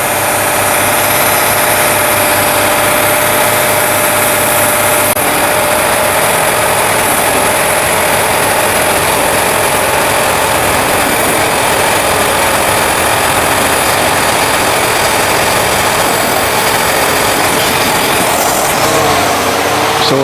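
A 2014 GM truck with a 5.3 engine idles roughly, a loud, continuous mechanical drone with an uneven low throb, heard up close with no talking.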